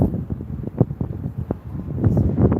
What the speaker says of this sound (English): Man, with all this wind, it's crazy.